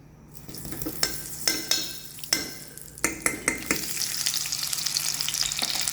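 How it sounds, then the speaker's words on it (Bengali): Butter hitting hot oil in a pan while making soybean kosha gravy: a series of sharp sizzling bursts and spoon clinks, then a steady, rising hiss of frying, close and alone. "গ্রেভি বানানোর পারপোজে এখানে অয়েলটা গরম হচ্ছে গরম হতেই আমি সামান্য কিছু বাটার ঢেলে নিলাম"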